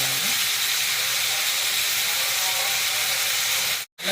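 Onions and tomatoes sauté in a pan, giving a steady, close broadband sizzle and hiss that runs unbroken for about four seconds before cutting out abruptly near the end.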